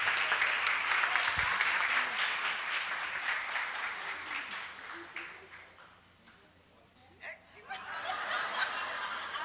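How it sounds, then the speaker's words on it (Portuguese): A church congregation at a Sunday morning service claps steadily with laughter and voices mixed in, the applause fading briefly before picking up again. "Você pode dar uma salva de palmas?"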